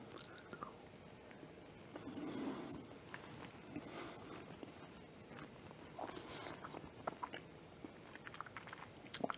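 Someone bites and chews a homemade Milky Way candy bar close to the microphone, with quiet crunching and wet mouth sounds at low level and no talk.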